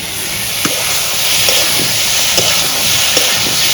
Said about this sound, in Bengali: দেখি পটলগুলো নাড়াচাড়া করে দিই।